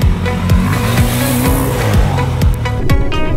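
KTM 500 motorcycle engine on a Devon green lane near Totnes, a loud, close, steady buzz with the revs rising and falling in quick repeated sweeps.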